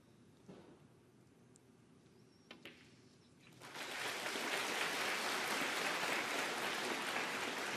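A snooker crowd at the 2019 Shanghai Masters bursts into sustained, dense applause after a few quiet knocks, the clapping swelling and holding loud to the end.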